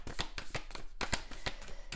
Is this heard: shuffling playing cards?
yes